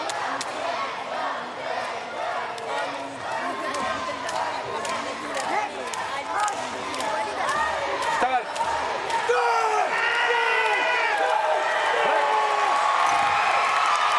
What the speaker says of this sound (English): A huge roar from the crowd and from Olivia.